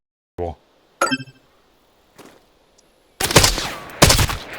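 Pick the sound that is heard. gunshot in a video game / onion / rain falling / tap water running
gunshot in a video game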